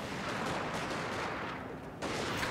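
Massed musket gunfire in the video game Fall of the Samurai, a continuous dense crackle of battle volleys filling the whole stretch, with a brief dip before a renewed loud burst near the end.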